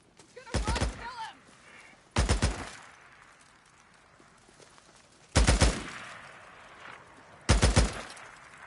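Enemy gunfire in Days Gone, four separate loud bursts of rapid shots a second or two apart, each with a sharp onset and a short fading tail over a quiet background.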